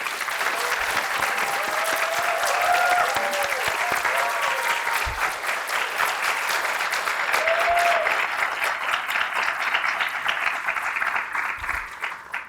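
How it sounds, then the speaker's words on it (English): Loud audience applause for graduating nursing students at a community college candle lighting ceremony, sustained dense clapping from a large crowd that holds steady throughout, with faint tones and a few thuds mixed in. "please give our graduates a round of applause"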